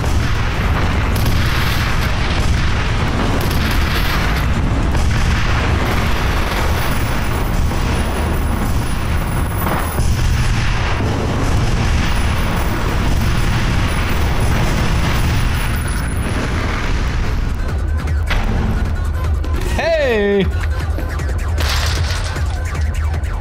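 Heavy rocket explosions in the first-person shooter FEAR: Extraction Point go off as loud booming blasts with rumbling low-end tails. Several big detonations land close together, then a sharper crash and a squealing sweep follow near the end.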